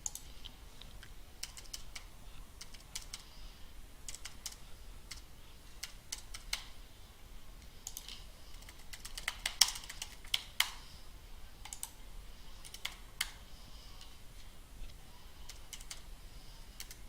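Card details are typed on a computer keyboard in steady, quiet bursts of light key clicks, close and alone, with a slightly busier cluster partway through.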